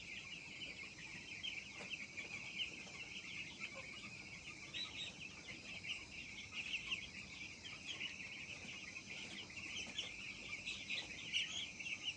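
Week-old poultry chicks fill a shed with constant high peeping and soft clucking, a dense steady chorus at moderate, fairly faint level, no talk.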